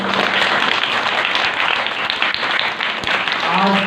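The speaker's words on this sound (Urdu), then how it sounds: "سارے ٹیچر کے لیے تالیاں بجائیں" Dense applause fills a school function as an audience claps for teachers on Teachers' Day, a steady loud wash of clapping with a voice cutting in briefly near the end.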